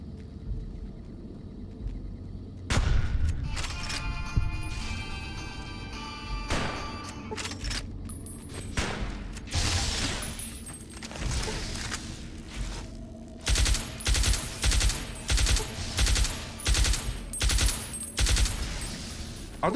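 A full rifle magazine emptied in Fallout: New Vegas on PC, heard as long bursts of rapid gunfire with booming reports, then a tight rhythmic string of evenly spaced shots near the end.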